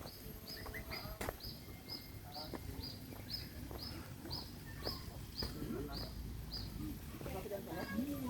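Caged birds at a bird park in Bali give a regular series of short, evenly spaced high chirps, fairly faint, over ambient crowd murmur and scattered talking.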